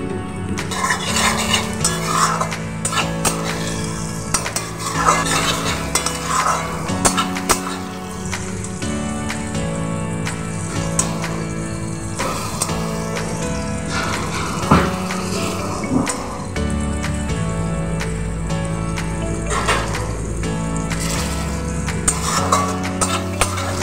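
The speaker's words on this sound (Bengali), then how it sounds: "ভালো করে কষিয়ে নেব।" Spiced masala with capsicum, tomato, cumin and Kashmiri chilli powder for a bata fish curry fries in a pan, with a low sizzle under frequent clinks and scrapes of a spoon against the pan, with music playing throughout.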